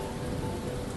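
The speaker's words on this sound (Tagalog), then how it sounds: "Lakas ng ulan, padre." Heavy rain pours down steadily and close by, a dense, continuous hiss of drops drumming on surfaces with no pauses and no voices.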